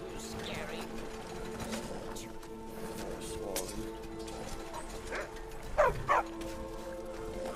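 In the modded Skyrim game, a dog gives a few short, sharp barks and yips near the end. They sit over a busy bed of steady game ambience, mechanical hum and scattered clatter.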